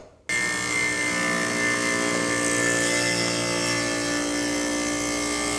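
A table or circular saw blade runs steadily through a wooden board held in a stop-block setup at 1-inch blade height, a loud sustained whine with dense tonal ringing lasting several seconds after a quiet start.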